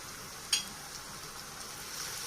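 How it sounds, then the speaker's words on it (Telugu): Ginger garlic paste frying with browned onions in a pan, a soft continuous sizzle at low level with one sharp utensil tap early on. "పచ్చివాసన పోయేంత వరకు దాన్ని కూడా ఒక 2 నిమిషాలు వేయించుకుందాం"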